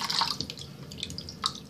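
Water trickles and drips from a tap into a container for soaking scented orbeez, a short light splashing with a few bright drip accents close by.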